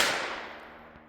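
A pistol fired point blank with no pillow muffling it: a single sharp, loud report at the onset that decays into a long ringing tail.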